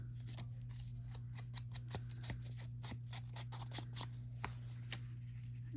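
Scissors snip through paper for a handmade Valentine card in a quick series of close, crisp cuts over a low steady hum, with no talking.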